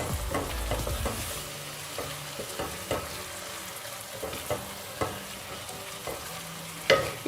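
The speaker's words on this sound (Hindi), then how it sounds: "प्याज हमारे फ्राई हो रहे हैं।" Onions frying in a pan for a brain masala fry, with steady sizzling and frequent scraping, clicking stirs from a spoon, close and fairly loud, with no talk.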